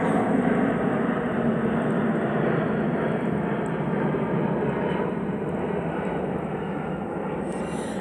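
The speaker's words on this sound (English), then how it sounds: "I'll wait for the aeroplane to go over." A large aeroplane passes overhead, producing a loud, steady roar that holds for the full stretch with only a slow fade near the end, alone without voices.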